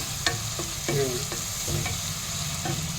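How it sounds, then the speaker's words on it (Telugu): Finely chopped green chillies and onions frying in a pan, a constant loud sizzle broken by repeated spatula scrapes and stirring clatter, close and continuous with no talk. "వీటితో పాటు సన్నగా తరిగి పెట్టుకున్న పచ్చిమిర్చి ముక్కల్ని కూడా వేసుకున్నాం ఇవి రెండు వేగుతున్నాయి కదా"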